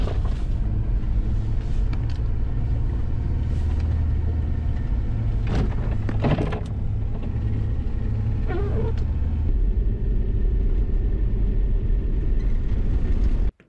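A car engine rumbles steadily at low speed while the vehicle pushes slowly through deep fresh snow on a forest road, a close, continuous drone with occasional rustling and scraping, cutting off abruptly at the end.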